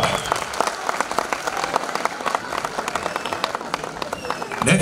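A concert audience claps in sustained, dense applause, steady and close throughout, with an announcer's voice speaking over the clapping.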